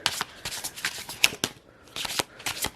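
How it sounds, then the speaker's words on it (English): Tarot cards riffled and shuffled by hand during a pick-a-card reading, close and crisp, in several quick bursts of papery flutter with brief pauses between them. "Let's start shuffling these"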